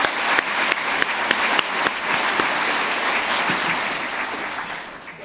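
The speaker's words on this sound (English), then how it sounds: "let's give them all a round of applause." A large audience claps and applauds steadily, a dense wash of hand claps that gradually fades toward the end.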